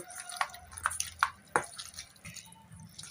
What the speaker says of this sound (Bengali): এবার আমি চিকেনটাকে ভালো করে মেখে নেব